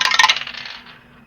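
Several dice clatter and tumble down through a dice tower during a tabletop role-playing game, a quick burst of bright rattling clicks that fades out over about a second.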